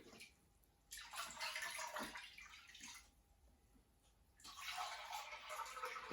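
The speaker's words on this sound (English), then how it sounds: "then add 6 pints of cold water" Cold water pours into a big mixing bowl of dissolved sugar for elderflower champagne, two separate splashing pours of a few seconds each with a quiet pause between, close and moderately loud.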